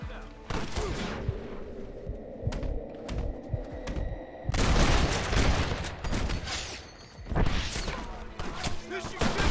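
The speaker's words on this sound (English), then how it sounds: "You man the Gatling gun!" A Gatling gun fires in Red Dead Redemption in sustained loud rattling bursts. Other gunfire, impacts and game sounds surround it, and voices are heard now and then.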